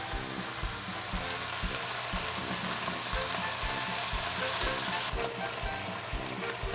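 Beef rouladen browning seam side down in a hot frying pan, giving a steady, close sizzle and spatter that runs unbroken throughout, with a faint low rhythmic hum underneath.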